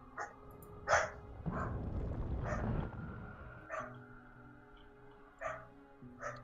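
Puppies bark and yip in short, separate bursts, with soft whimpers between them, all fairly close and set against a steady low background hum.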